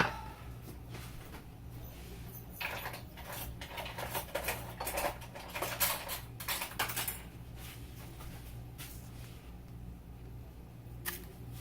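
A spoon stirring a mixture in a bowl, with a run of quiet, rapid clinks and scrapes that bunch up in the middle and then fade, near and soft with no talking.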